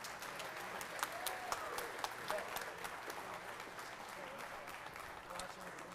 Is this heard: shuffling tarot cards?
no